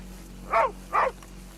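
A dog in the video game Red Dead Redemption 2 gives two short, sharp barks in quick succession, fairly close and clear over a low steady background hum, with no talk.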